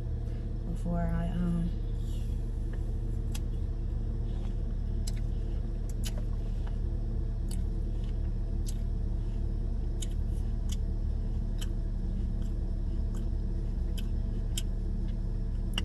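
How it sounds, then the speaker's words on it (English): A car defroster blows inside the vehicle as a constant, low, rumbling airflow hum, with faint regular ticking and a person talking over it. "I'm just turning on the defroster in my vehicle"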